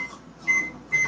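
Two short electronic beeps sound about half a second apart, fairly faint over a low background hum.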